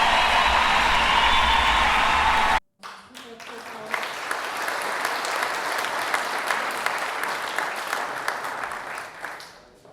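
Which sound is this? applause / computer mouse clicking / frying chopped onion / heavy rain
applause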